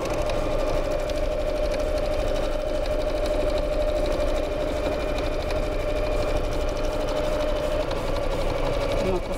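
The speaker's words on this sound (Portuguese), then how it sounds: "eu vou passar uma costura reta nas laterais para fechar a bolsa" Sewing machine running a straight seam along the sides of a bag, a steady close mechanical whir and rapid stitching hum that continues for the whole stretch.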